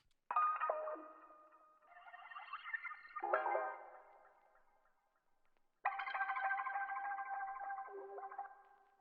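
Dark, warped, pitched textures swell and fade in slow, echoing layers, with a long ringing tone rising after a brief near-silent gap.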